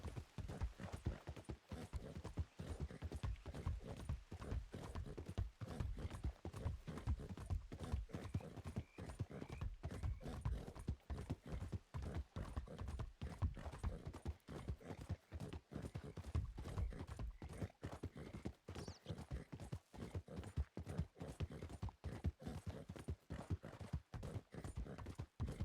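Horse hooves clip-clop steadily through a Wild West roleplay game, a dense, rapid run of close hoofbeats that carries on throughout with little break.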